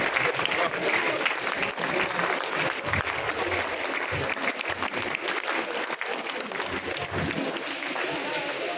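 Steady, dense applause from an audience at a political meeting marking Syama Prasad Mookerjee's birth anniversary, sustained and fairly distant, with a voice speaking faintly underneath.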